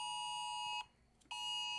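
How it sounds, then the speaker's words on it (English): A phone's national emergency alert tone blares as a steady, piercing electronic alarm with a brief gap in the middle, loud and alone. "My phone had a national alert."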